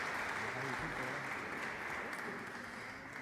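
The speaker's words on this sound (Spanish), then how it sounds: "Muchas gracias y un aplauso para el señor Bianchi" An audience at a conference session applauds Mr. Bianchi, a soft, continuous wash of clapping with voices mixed in, fading slightly toward the end.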